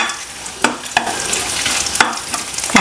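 Vadagam and dried red chillies tempering in hot oil for a Tamil-style rasam, giving a steady loud sizzle and crackle with a few sharp pops and stirring scrapes throughout.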